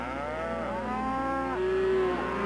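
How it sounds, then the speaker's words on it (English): Cattle mooing in a herded crowd, calves and cows calling to one another: several drawn-out moos overlap and rise in pitch, close and clear over a steady low hum, with no talking. "Calves and cows call to each other in the crowd."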